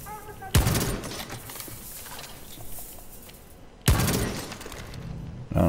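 Two sharp, loud gunshot blasts ring out a few seconds apart in Rainbow Six Siege as C4 is shot at, each followed by a ringing, shattering tail over a low rumble of game ambience.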